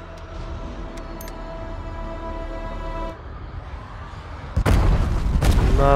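An explosion in the House of Ashes video game arrives as a sudden loud broadband blast late in the stretch, preceded by steady droning tones and game ambience, with the rumble carrying on afterward.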